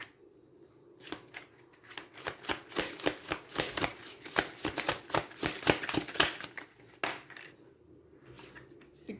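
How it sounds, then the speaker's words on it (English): A deck of oracle cards being shuffled by hand: a long run of crisp, rapid riffling flicks and slaps, close and fairly loud, that builds and then tapers off with a few final taps. "I'm going to go ahead and get a card from the Denied Shadow Oracle."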